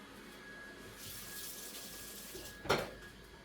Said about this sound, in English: Let me get another, let me rinse my spoon.